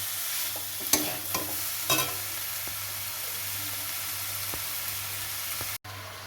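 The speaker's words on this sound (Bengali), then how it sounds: "এবার ভালো করে কিমাটাকে কষে নিতে হবে এই মশলার সাথে" Chicken mince is stir-fried with spices in a wok, a steady close sizzle with a few sharp scraping stirs early on, continuous and alone, ending in a brief cut.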